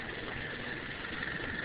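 A stock Rocketa MC-54-250B 150 cc moped running as a hydrogen hybrid with no exhaust idles close by, a steady, even engine drone with no other sounds.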